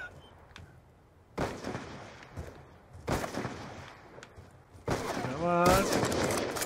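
Scattered bursts of gunfire in the Call of Duty Black Ops 2 video game, several sharp separated volleys growing louder and denser toward the end, mixed with a player talking.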